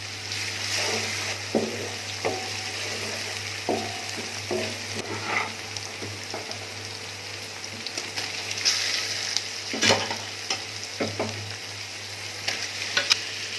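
Cumin seeds and dried coriander sizzle in hot oil in a pan while cooking stuffed karela with keema dal, a soft steady fry with scattered crackles, pops and stirring clinks, fairly quiet and without talk.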